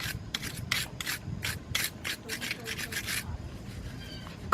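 Rust is scraped off rear brake pads from a 2000 Jeep Grand Cherokee Laredo with quick repeated rasping strokes, close and fairly quiet, easing off toward the end.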